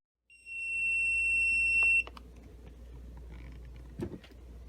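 Timer set for ten seconds during key fob sewing and interfacing work, giving a bright high-pitched steady beep tone for about a second and a half, then a quiet room with a faint click.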